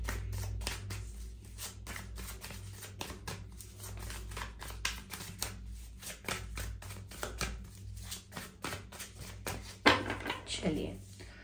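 A deck of tarot cards is shuffled by hand, giving a quick, uneven stream of soft clicks and flutters that runs throughout, with a louder rustle near the end.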